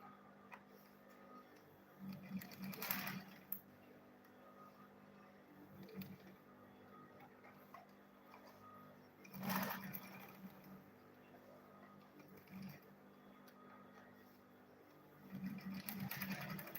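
A sewing machine stitches a fabric lunch bag in short bursts, the needle ticking rapidly during each run with quiet pauses between, close and fairly faint.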